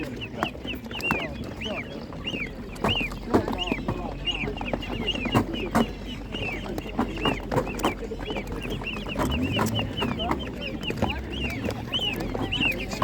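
A flock of chickens at a market clucking busily and continuously close by, with overlapping calls and faint voices mixed in.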